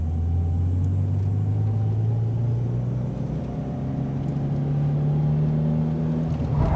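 Toyota 86 engine rising as the throttle is pressed during a drift lesson, a rumbling, steadily climbing engine note with tyre noise, heard alone without talk.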